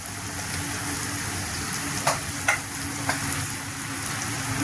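Red chilli powder, turmeric and cumin powder roasting in hot oil for moong dal amti, a steady close sizzle with a few soft stirring scrapes, no one talking.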